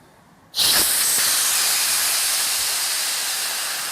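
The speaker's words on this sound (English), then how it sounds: "and it deflates pretty rapidly" A Vaude Dream Comfort sleeping pad deflating as air rushes out through its opened valve: a sudden loud, steady hiss begins after a brief quiet moment and holds strong to the end, easing only slightly.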